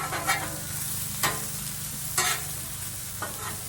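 Smash burger patties sizzling on a Blackstone griddle, a steady close hiss broken by a few sharp scrapes of a spatula against the flat top.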